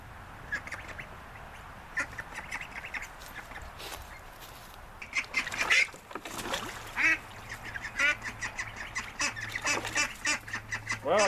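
Several ducks quack and honk near a chicken tractor, first in sparse calls and then in a busier, rhythmic chorus. The calls are moderately close, with faint background noise and no talking.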